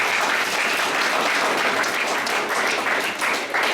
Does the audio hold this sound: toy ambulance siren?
no